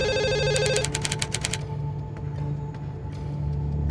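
An old-style telephone bell rings in rapid repeated bursts, loud and close, then stops, leaving a quiet hum with a few faint clicks.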